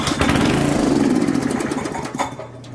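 A Troy-Bilt rototiller engine that has trouble starting sputters and chugs up close, running roughly for a couple of seconds before it fades and dies away.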